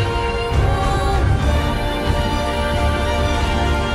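Orchestral strings from the Monster Hunter Rise soundtrack play a fast, driving note pattern in a dense, loud full-orchestra texture, with no voices.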